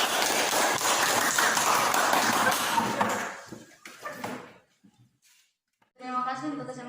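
Classroom group applauds for the first presenting group in a teacher-training session, a dense burst of clapping lasting about three seconds that fades out, then near silence before a voice begins speaking.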